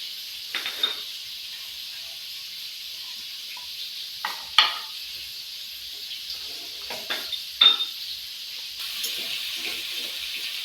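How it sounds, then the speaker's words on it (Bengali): Shrimp fry in a pan with a soft, steady sizzle, broken by several scraping stirs and spatula knocks at irregular moments, fairly quiet and close. "চিংড়ি ভাজা হয়ে গেছে, আমি এবার তুলে নেব।"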